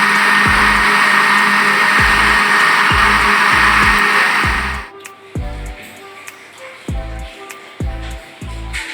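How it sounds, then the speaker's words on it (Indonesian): A kitchen blender runs loudly as it purees spices with coconut milk for Minang-style gulai, then switches off. Rhythmic thumping knocks continue after the motor stops. "kalau masih kurang, dirasa masih kurang, tambah santannya lagi biar bisa lebih mudah memblender ya."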